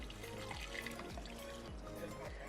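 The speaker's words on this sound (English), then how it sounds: "she's going to then go ahead and fill up the vase with water" Water poured into a vase holding flowers for an inexpensive table centerpiece; a quiet, continuous pouring and trickling sound fills the short stretch at low volume, with no talking.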